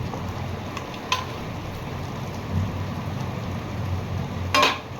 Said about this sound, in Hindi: और बाहर बारिश हो रही है तेजी के साथ।